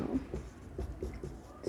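A pen writing a diagram by hand on paper, soft rhythmic scratching strokes repeating at a steady pace, close and quiet.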